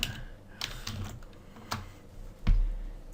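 Text being typed on a computer keyboard: a quiet, close, irregular run of soft key taps with one firmer press near the end, alone without talk.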